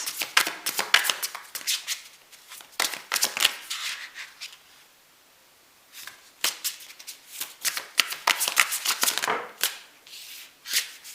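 Tarot cards shuffled by hand in repeated bursts of crisp riffling and flicking, close and fairly loud, with a brief quiet pause in the middle before the shuffling resumes.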